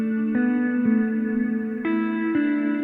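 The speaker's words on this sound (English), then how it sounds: "just adding like a nice little manual bit of delay" Soft lo-fi beat guitar notes with a manually programmed delay, each note followed by quieter repeats of itself, a few sustained pitches stepping up over nearly three seconds with a smeared, echoing tail.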